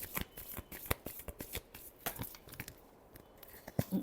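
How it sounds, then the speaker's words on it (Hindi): A deck of tarot cards is shuffled by hand in quiet, rapid bursts of crisp riffling and slapping, faint and close, with no voices. "एक बार और शफल करनी पड़ेगी"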